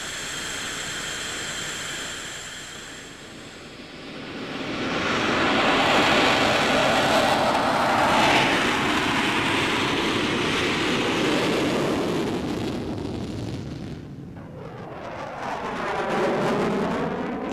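An F-18 Hornet fighter jet flies on a high-speed test flight. A broad roar swells and holds loudly for several seconds, eases off, then builds again as the jet sweeps past.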